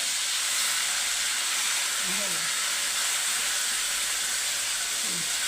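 A paste of onion and coconut fries in a pan with a steady, even hiss, steam-like and constant throughout, while a voice murmurs faintly in the background.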